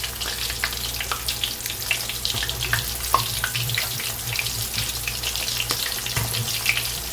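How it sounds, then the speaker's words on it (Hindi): Shrimps fry in hot oil for a sweet and sour shrimp dish, giving a steady, dense sizzle with crackling pops that stays close and fairly loud throughout, with no voices over it. "वैसे आप चाहें तो इन्हें कम ऑयल में भी तल सकते हैं।"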